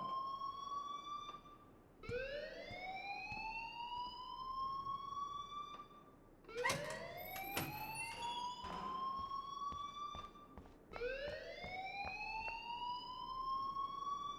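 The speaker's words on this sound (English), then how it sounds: "please turn off that alarm since that's your job." A school alarm in the Life Is Strange video game repeats as a rising electronic whoop about every two seconds, with clear harmonic sweeps and a busier burst of tones in the middle, loud and steady with no talking.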